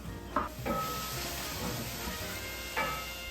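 Greens simmering in a little salted water with garlic powder in a pan on the stove, a steady soft sizzle and bubbling hiss with a few brief stirring scrapes, close and alone without talk.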